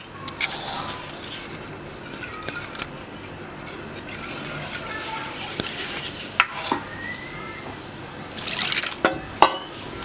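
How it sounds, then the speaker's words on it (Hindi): Flour-and-water mixture being stirred into a pot of beef nihari, giving soft liquid swishing and sloshing with occasional utensil clinks against the pot, moderately quiet throughout. "अच्छी तरह से अब आपने मिक्स करना है, इसमें किसी किस्म के कोई लम्स बाकी ना रहें"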